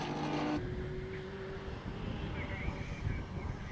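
Race cars, including vintage machines such as a 1973 MGB RV8 Roadster, accelerating out of Wilson hairpin at Snetterton during an MSVR club championship race, engine notes rising and overlapping, heard fairly close with a rough, revving drone.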